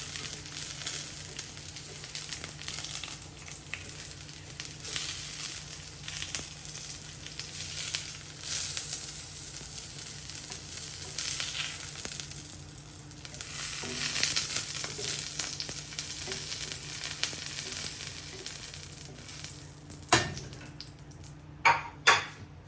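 Onion sizzles steadily on a grill alongside other vegetables for a salad, a continuous close hiss with a few soft clinks of utensils near the end.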